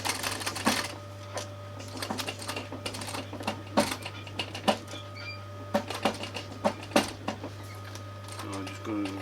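Sewing machine slowly stitching curved corners of a camper cushion, short bursts of rapid mechanical clatter separated by pauses over a steady low motor hum.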